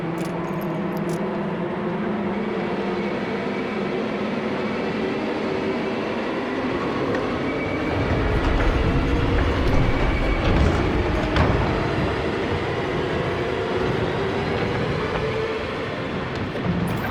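A train passes in Alan Wake Remastered's The Writer DLC, a long roaring rumble of wheels and carriages that swells louder midway and then holds, steady and close, with no voices over it.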